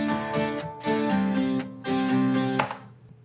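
An uncompressed strummed guitar plays a quick rhythmic pattern of chords, bright and close, with natural swells and dips in loudness before the last chord rings and fades.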